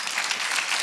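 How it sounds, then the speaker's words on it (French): Short stretch of audience applause at a conference on e-health, a dense, even patter of many hands clapping throughout. "On peut les applaudir quand même."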